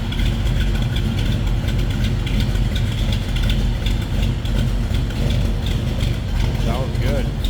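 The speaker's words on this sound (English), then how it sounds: "Stroker, a little rumble to it." A 1966 Chevrolet Nova with a stroker engine idles with a steady, loud, low rumble, close by and continuous, while someone talks over it.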